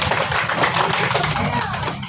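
A crowd at a shop's grand opening event bursts into a thick, busy round of clapping, with voices mixed into the noise throughout the short burst.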